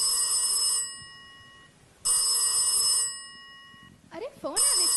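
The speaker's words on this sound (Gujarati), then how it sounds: "અરે ફોન આવે છે, ઉપાડ ને રોહિત." A telephone bell rings in a home during a children's drama, two long bursts of bright, steady ringing separated by a pause, then a rising warbling tone and the start of another ring, all fairly loud and close.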